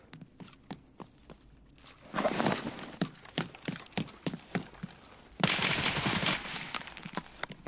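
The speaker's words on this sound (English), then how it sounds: "Why are you shooting me?" Gunfire in a shooter video game: a rapid run of sharp shots pops out in regular bursts over a noisy backdrop, growing louder and denser in the middle and then easing back.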